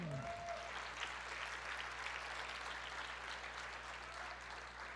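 A church congregation breaks into steady, dense applause that holds evenly for the whole stretch, moderately loud and filling the room, with no voice rising above it.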